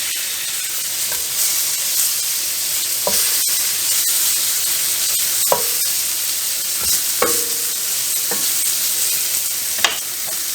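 Beef pieces sizzle steadily as they brown in a hot pan, a dense frying hiss running throughout with occasional scraping clicks and knocks from stirring, close and fairly loud with no talking.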